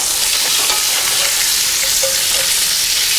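Bacon sizzles loudly in a pan over a camp cooking setup, a steady dense frying hiss with soft scraping as it is stirred, close up and with no voices.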